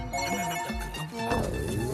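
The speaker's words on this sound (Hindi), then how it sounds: "फोन है।" A telephone rings with a warbling electronic tone under busy background sound and some speech.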